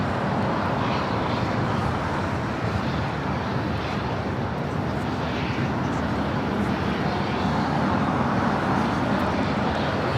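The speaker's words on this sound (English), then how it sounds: "There goes the 757 heading to Reagan National" Boeing 757-200 airliner taking off at Los Angeles International Airport, a broad steady engine roar heard from a distance, constant throughout with some wind noise.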